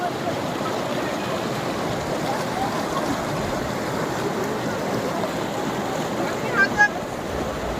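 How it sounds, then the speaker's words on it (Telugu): The Ganga river at Gangotri rushes and gurgles over rocks in a steady, broad wash of water, with a faint voice briefly rising near the end. "గలగలలు ఎంత విన్నా వినాలనిపిస్తుంది"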